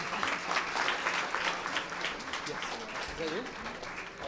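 Dense, continuous applause fills the hall at a students and teachers performance event, many hands clapping at once in a steady wash, with a voice briefly audible beneath it.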